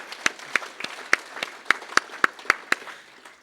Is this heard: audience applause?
yes